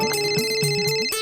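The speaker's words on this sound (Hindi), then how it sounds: "फोन उठा" A telephone rings with a steady, repeating electronic ringtone pulsing in quick bursts, loud and close, with no talking.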